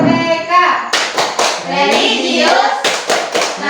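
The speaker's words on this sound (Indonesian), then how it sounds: "kita sekarang melakukan tepuk PPK" Children in a classroom perform the PPK clapping chant, a rhythmic run of sharp group claps and slaps mixed with shouted chanting voices, loud and close.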